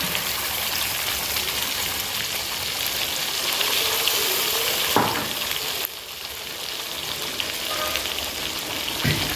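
Onion paste fries in oil in a pan, a steady, bright sizzle running throughout, close and moderately loud, with a couple of brief stirring scrapes and no talk.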